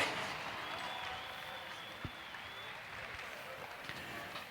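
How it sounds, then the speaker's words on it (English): Rodeo crowd clapping at a poley saddle buckjump event at the Sydney Royal show, a faint, thin scattering of applause from a distance with arena ambience. "it doesn't hurt to clap a little and make a little noise for these boys."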